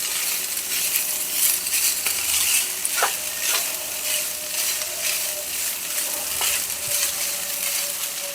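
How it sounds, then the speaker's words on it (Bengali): Leftover rice being stirred and tossed in a hot frying pan for fried rice, a steady sizzle with soft scraping strokes and a couple of light metallic clinks. "ভাত দিয়ে খুব ভালো করে কিন্তু ওগুলোকে একসাথে নেড়ে চেড়ে মিশিয়ে নেব।"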